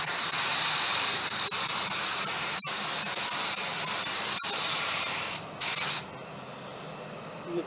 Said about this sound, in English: just take the time to watch the lacquer going on